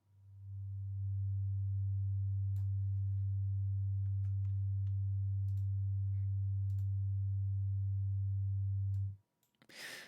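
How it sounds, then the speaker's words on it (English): A steady low sine tone from a tone generator, set up for enhancing dead notes on a bass guitar, holds unbroken and loud for about nine seconds, then cuts off abruptly into a brief burst of noise. "so we got the tone generator on there."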